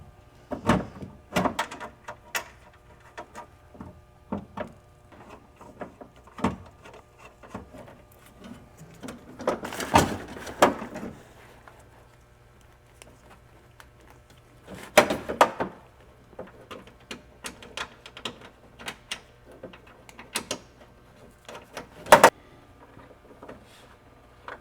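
Bolts are threaded by hand into the window motor inside the door of a 1999-2004 Land Rover Discovery II, producing scattered faint metallic clicks and taps with a few louder knocks against a quiet background.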